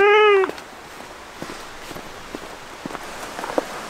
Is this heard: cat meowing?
yes